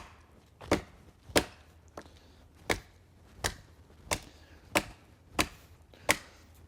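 A Fox parang with a blackened, coated stainless blade chops into wood, making nine sharp, solid thwacks at a steady rhythm about two thirds of a second apart, close and crisp against quiet surroundings.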